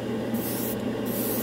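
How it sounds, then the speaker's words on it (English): A Badger airbrush fitted with a 2 millimeter needle sprays Stynylrez primer in a short, steady hiss that runs loud and even, with no talking. "I switched airbrushes. I went to the 2 millimeter needle."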